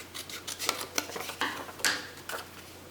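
Scissors trimming paper for vintage stacked junk journal envelopes, a run of short, crisp snips and rustles at an uneven pace, close but fairly quiet over a low steady hum.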